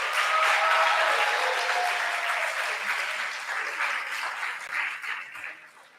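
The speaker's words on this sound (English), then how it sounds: "So let's give them a round of applause again, please." Sustained applause from an audience for three graduating seniors, dense and steady at first, then gradually thinning and fading toward the end.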